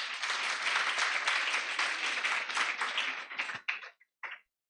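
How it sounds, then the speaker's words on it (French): Audience applause at a ceremony honouring a patroness, dense clapping from a crowd for about three and a half seconds, then thinning into a few scattered final claps before silence. "On s'applaudit aussi pour cela"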